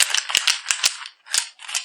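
Chain nunchucks clatter loudly in a string of sharp metallic rattles and clacks, several quick bursts with short gaps between them, close and alone.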